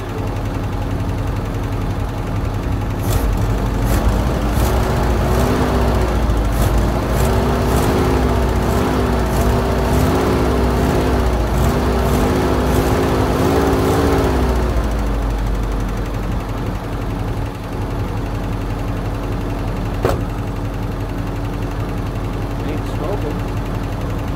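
A steady idling Subaru Brat engine drones close by with a fast, regular ticking from a noisy lifter running through it; a few sharper clicks and a single pop occur.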